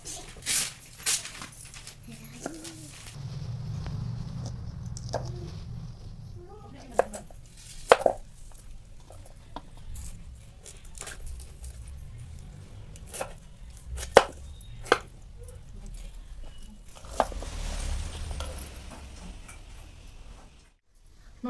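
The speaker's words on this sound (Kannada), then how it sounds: "ಎಲ್ಲವೂ ನೀಟಾಗಿ ಕಡ್ಕೊಂಡು ಇವನ್ನೆಲ್ಲ ತೆಗೆದು ಕ್ಲೀನ್ ಮಾಡಿ ಹೋಳ್ ಮಾಡಿ ತೋರಿಸ್ತೇನೆ" A knife chops raw mangoes into pieces for Uttarakarnataka-style mango pickle in a home kitchen, with sharp, irregular cutting knocks on a board spread across the clip, some louder strikes, quiet handling between them and occasional faint background noise.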